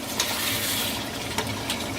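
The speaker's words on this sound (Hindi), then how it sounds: "थोड़ा सा इसमें पानी मिलाते हैं" Water is poured into a pan of Mughlai chicken korma with yogurt, a steady close hiss of pouring and splashing liquid lasting a couple of seconds without talk.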